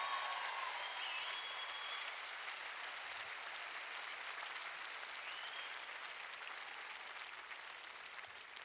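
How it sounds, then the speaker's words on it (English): An audience gives sustained applause for a live band at a concert, a steady wash of many hands clapping that holds evenly and fades slightly, heard at a distance and fairly faint. "how about a round of applause for the band"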